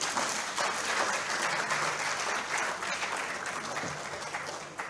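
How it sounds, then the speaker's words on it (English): Steady audience applause at a memorial lecture, a full continuous wash of clapping from a sizable crowd throughout, with no break and no speech over it. "I thought you were clapping for her"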